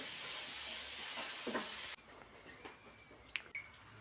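Sugar, coconut and cardamom powder being stirred in a hot pan: a loud, steady sizzling hiss that cuts off abruptly midway, followed by quiet with a few faint clinks and scrapes.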